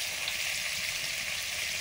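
Halved pieces of koi fish, skinned and washed, fry in hot oil in a pan with a steady, even sizzle that stays loud and constant throughout, with no voices.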